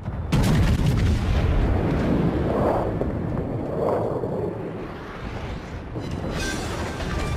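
Naval gunfire and explosions in World of Warships as an enemy cruiser is destroyed: a sudden heavy boom, then sustained rumbling blasts and crackle that gradually fade, with no talk.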